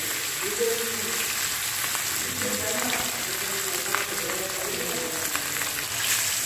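Siri fish frying in hot oil, a steady close crackling sizzle that continues throughout. A person talks quietly over it.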